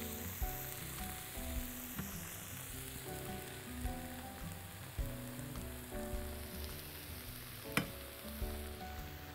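Eggs fry in a pan for shakshuka, giving a continuous close sizzle with scattered pops and a few sharper crackles. Soft tonal sounds sit in the background.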